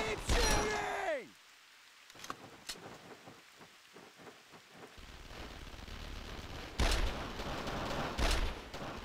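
Gunfire in the Brothers in Arms D-Day war video game, with scattered sharp shots and bursts, quieter stretches and heavier rumbling volleys later, under game sounds.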